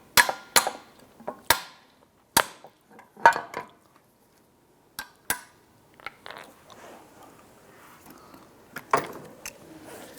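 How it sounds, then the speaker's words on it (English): Sharp metallic taps knock the compression retainer off a 2001-2007 Ford Escape strut, a dozen or so close, irregular strikes with short ringing decays and quiet gaps between them. "Now we have a retainer here for the compression. We're going to tap that off."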